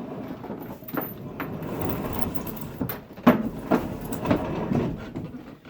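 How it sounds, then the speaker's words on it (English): A sliding barn door rolls along its track after being oiled with WD-40, with several short scraping and rumbling pushes and a few sharper knocks as it moves, heard close up with no talking. "So let's try the door out."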